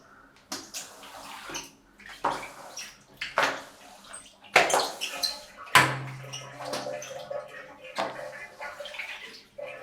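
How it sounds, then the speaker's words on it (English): Wet, swishing scrapes sweep excess water off a freshly scrubbed floor, with several uneven strokes and splashy drags that are fairly close and carry no talk. "Then scrape off all the excess water"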